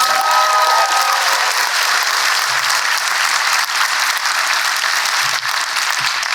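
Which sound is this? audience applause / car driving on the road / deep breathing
audience applause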